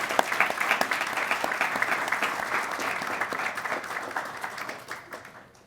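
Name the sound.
audience applause for forum panelists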